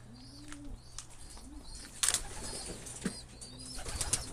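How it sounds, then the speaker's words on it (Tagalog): Pigeons coo softly in repeated low calls, with a sudden flutter of wings and scattered chirps close by in a quiet setting. "Ayan, may mga nagdatingan na ng mga ibon."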